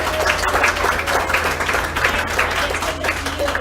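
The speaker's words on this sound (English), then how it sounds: "So big round of applause for Tarrah." A community coffee gathering audience claps for a speaker, with sustained, moderately loud applause of many hands throughout, over a steady low hum.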